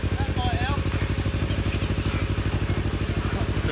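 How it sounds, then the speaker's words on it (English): A boat passes through a canal lock with a steady, rhythmic engine throb, and loud music thumps along with it, while a voice speaks briefly over the noise. "Sounds like a disco boat going through."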